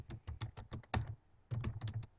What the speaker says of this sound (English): So I'll begin by typing in inquiry-based learning